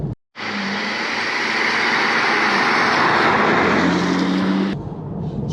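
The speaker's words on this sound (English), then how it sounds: "there's certainly wind noise, and more importantly, road noise as well, and that's probably the tyres" Inside an Aston Martin DB9 Volante V12 convertible on Bridgestone Potenza tyres, a loud, steady rush of wind and tyre road roar fills the cabin for several seconds before cutting out abruptly.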